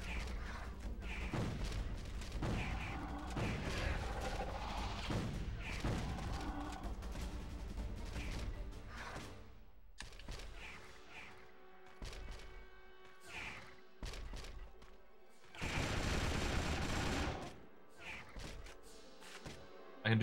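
Gunshots fired at dinosaurs in Jurassic: The Hunted ring out as repeated loud thumping blasts and crashes over roughly twenty seconds, irregularly spaced, with game noise between bursts and a sharp, bright blast near the end.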